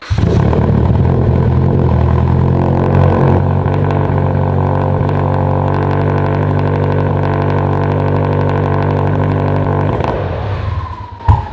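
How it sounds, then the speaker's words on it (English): A Mitsubishi Evo X engine that has started running badly, idling loudly and roughly up close for about ten seconds before it cuts out, followed by a brief clunk. "Let me fire this thing up and show you how terrible the 10 runs all of a sudden."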